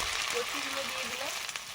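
Taro pieces drop into hot oil and fry with a steady, soft sizzle that carries on evenly at a moderate level, with a faint voice in the background.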